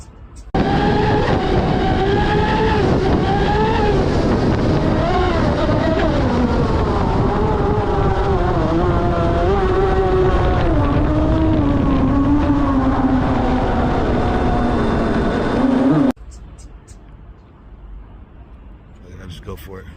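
A fast RC speedboat capable of about 111 mph runs on the water with a steady, loud motor whine that climbs and sweeps in pitch for about sixteen seconds, then cuts off abruptly, leaving faint background noise.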